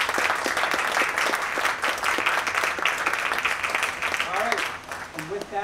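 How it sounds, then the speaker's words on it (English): An audience at a live jazz concert applauds Matt and Jess, a dense, sustained burst of many hands clapping that eases slightly near the end as a voice begins to speak. "So I think they deserve a round of applause."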